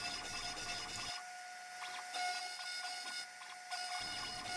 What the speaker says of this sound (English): The program here is milling out an asymmetric set of counterbores and the top portion of the matching through holes